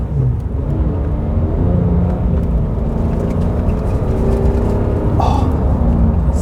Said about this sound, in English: put the exhaust in the loud mode